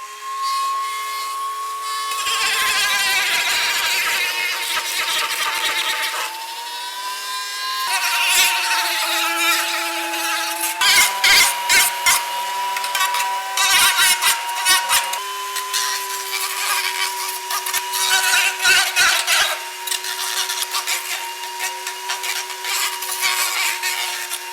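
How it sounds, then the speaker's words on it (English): A high-pitched rotary tool whines steadily while deburring the edges of Mugen air ducts for a Honda, rising and dipping in pitch with short gaps as it grinds. Close and loud, with no talk. "now what we're gonna do is just deburr, can we call it deburr, the edges to make it a bit smooth"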